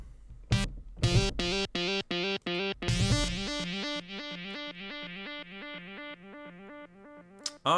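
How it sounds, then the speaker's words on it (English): A loud, bright synthesizer lead in the classic old-school Haywyre style plays a rhythmic, staccato pattern of repeated notes, with an echo effect that makes each note trail off and repeat more quietly as the phrase goes on. "Let's get some echo on that."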